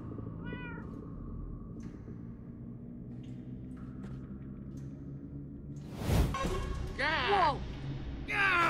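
Cats meowing in Minecraft Story Mode: a brief meow early on, then a louder burst of several overlapping meows near the end over a quiet low rumble.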